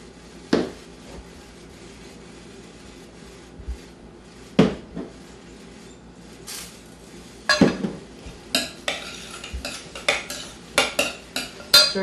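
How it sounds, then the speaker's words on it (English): A utensil stirs pepper, salt and garlic salt together with celery in a bowl, producing irregular close clinks and scrapes that grow quicker and more frequent toward the end. "Stir it together."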